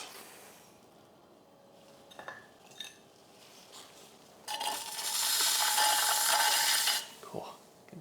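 Rough grog-filled clay scraped and pulled away on a potter's wheel, giving a gritty rasping sound that grows into a loud sustained scrape and then stops, with quieter tool clicks and rubbing before it.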